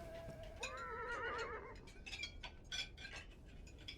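A mustang horse whinnies in the game Beyond Two Souls, a wavering high neigh lasting about a second, followed by faint clinks and soft ambient rustle, fairly quiet overall.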